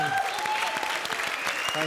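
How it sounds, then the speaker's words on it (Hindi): Studio audience applause on a Hindi television comedy show, a steady patter of clapping under a voice and some musical tones, moderately loud and brief. "जोरदार तालियां हो जाएं।"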